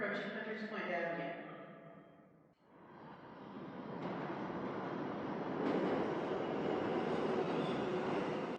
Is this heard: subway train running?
yes